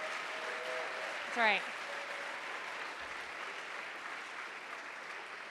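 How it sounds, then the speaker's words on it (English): Audience applause at a college awards ceremony, a steady moderate wash of clapping throughout, briefly topped by a short spoken interjection from a nearby voice. "give a round of applause to all of you for enhancing our entire college culture"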